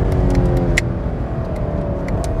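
A Chevrolet Camaro SS's 6.2-litre engine revving hard and close on a race circuit, pitch climbing, dipping briefly at a gear upshift, then rising again.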